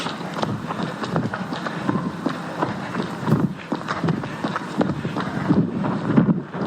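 Steady, blustery wind buffets the microphone of a runner heading into a headwind along a lakeshore, a continuous roar broken by rhythmic footfall thumps throughout.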